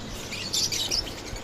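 Finches and other small birds at a bird market chirp and tweet continuously in a busy, overlapping chorus, with brighter bursts of calls standing out in the middle and no talking.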